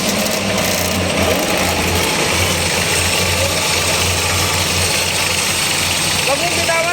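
A Kubota B1500 tractor engine runs steadily during a transmission check after replacing the pilot bushing and seal, a close, continuous low rumble with voices talking over it.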